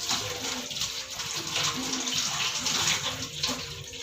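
Soapy hands rinsed under a running tap during handwashing before a clinical procedure, a steady, fairly close rush of water with slight splashing changes, no voices.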